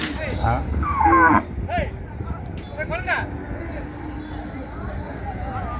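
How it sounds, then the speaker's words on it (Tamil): Cattle and jallikattu bulls at the busy Manapparai cattle market in Tamil Nadu, with several loud, close moos and bellows over constant crowd chatter, while someone talks nearby. "ஃபுல்லாக உங்களுக்கு ஜல்லிக்கட்டு காளைகள் நிறையா வந்துருக்கு கறவை மாடு எல்லாம் வரும்"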